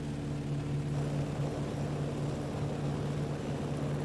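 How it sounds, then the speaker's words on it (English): Cockpit of a BF 108 Taifun aircraft in Microsoft Flight Simulator, with a constant period engine drone and steady rushing wind noise, even and sustained throughout. "Nice amount of wind noise too, not just engine noise increase, but wind noise."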